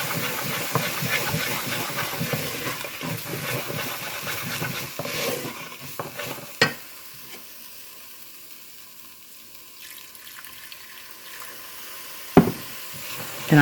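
Low carb sausage gravy stirred in a pan over medium-low heat gives a soft sizzling hiss with faint scraping, quieting midway before two sharp utensil clacks against the pan.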